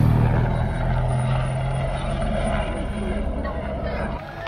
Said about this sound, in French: il y a l'hélicoptère là-bas qui arrive.